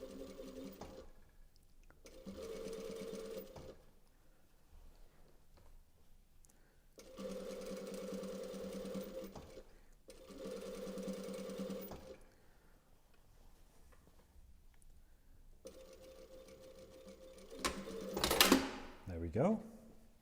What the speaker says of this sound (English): we've sewn our neckline all the way around